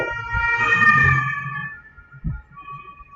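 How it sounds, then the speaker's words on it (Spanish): An ambulance siren wails loudly with a wavering tone as it passes close by, then fades, leaving a faint trailing tone and some traffic noise, with no talk. "vamos a esperar que pase la ambulancia."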